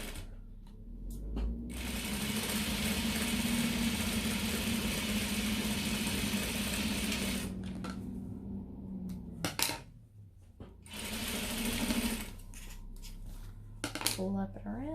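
A sewing machine stitches the tops of wallet card slots in two long runs of rapid, steady mechanical whirring and clatter, close and fairly quiet, separated by handling noises.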